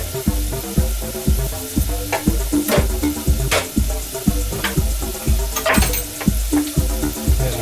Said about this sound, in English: Now what I'm going to do is just fry this little bit of fish in a flat saucepan